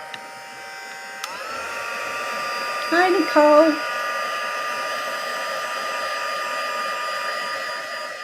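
A hair dryer runs with a steady, close whirring hum and strong tonal whine that starts abruptly and continues unbroken, while a voice briefly speaks over it.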